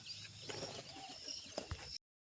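A pigeon coos softly inside a well, a faint low murmuring call with a couple of brief bumps toward the end.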